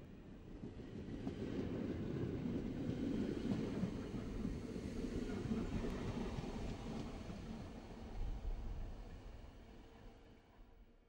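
Historic Berlin S-Bahn train running at night toward the works site in Erkner, a steady low rumble and rolling noise that swells and holds throughout, with some wind buffeting on the microphone.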